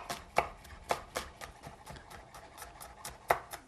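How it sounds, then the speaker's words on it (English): A knife slices shallots thin on a cutting board in crisp, quiet taps, a few sharper strikes standing out among lighter cuts in an uneven rhythm, with no talking. "So I'm just going to slice these"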